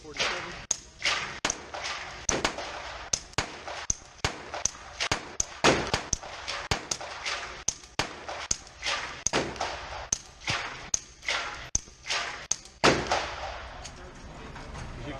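Rapid pistol fire through a SilencerCo Maxim 9 suppressor, about two dozen sharp muffled cracks in quick uneven succession at seven yards, each a short thump, with a brief pause partway through.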